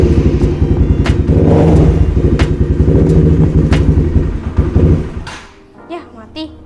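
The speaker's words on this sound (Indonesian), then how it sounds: "Kasih suara, dengar suaranya." A first-generation Honda CBR150 motorcycle in mint condition, its engine still cold, runs loud and close with a rapid, throbbing rev for about five seconds before cutting out, leaving a few faint clicks.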